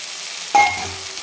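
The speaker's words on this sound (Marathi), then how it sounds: "आता या वेळेला आपण हे जे चार अंडे फोडून घेतले होते हे आपण अंडे टाकून घेऊ" Beaten eggs are poured into a hot pan of fried methi (fenugreek) vegetables, setting off a sudden sharp sizzle that settles into a softer steady frying hiss.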